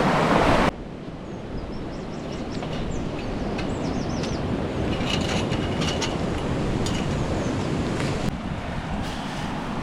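Guadalevín river running full of water in the Sierra de las Nieves, a loud, steady broadband rush that carries on unbroken throughout, with a few faint high bird chirps above it.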